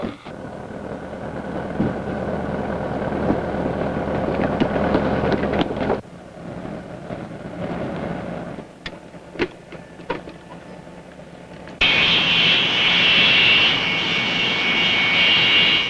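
F-86 Sabre jet interceptors scramble and take off from the head of a runway during a 1952 alert. A loud, continuous jet roar shifts partway through into a higher, steady whine, with no talk.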